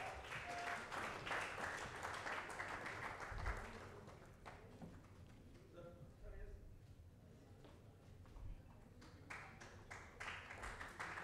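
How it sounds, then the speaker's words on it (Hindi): Applause at a Hindi awards event honoring a choreographer guest, a dense crowd clapping loudly at first, then thinning and fading in the middle before swelling again, with a voice speaking over it. "जोरदार तालियां सर के लिए"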